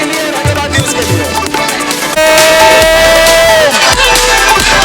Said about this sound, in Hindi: तालियां अब्दुल्ला बिल्डर्स के लिए